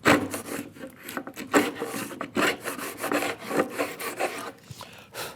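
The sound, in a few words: hand router plane cutting a housing dado groove in wood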